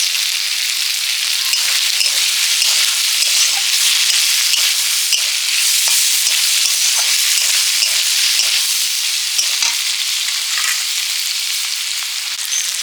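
Onion fries in a pan with a dense, even hiss and crackle sustained for several seconds, close and loud, without any voices.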